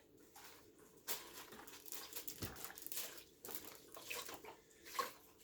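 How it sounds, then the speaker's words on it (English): Broth poured into a pot while making Swiss steak gravy, a soft, uneven splashing and trickling pour with a few sharper splashes, quiet and close, with no talking. "And we pour in our broth."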